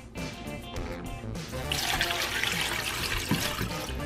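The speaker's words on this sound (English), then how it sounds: "take my quart of hamburger dill slices here, pickle juice, and go ahead and get it on in there." Pickle juice poured from a quart jar of hamburger dill slices, a faint trickle building into a steady splashing pour that runs on, close and alone without voices.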